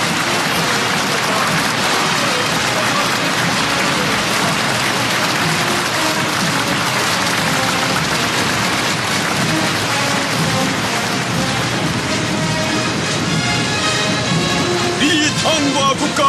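A large crowd applauds at a military parade in Pyongyang, a dense, continuous wash of clapping heard from a distance like rainfall, steady and unbroken throughout.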